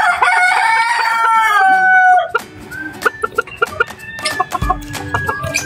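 Pet chickens at a nest spot: a rooster crows loudly and close for about two seconds, then hens cluck in short, uneven bursts with some knocking sounds and no talking.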